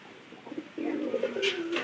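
Domestic pigeons give a run of low, throaty coos, starting softly and swelling into a steady, rolling call that continues close by, with faint higher chirps near the end.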